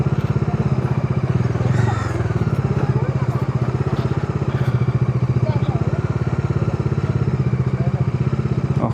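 A motorcycle engine runs loud and close near the Dakshinkali temple gate and parking area in Nepal, with a steady rapid thumping throb that continues unbroken throughout.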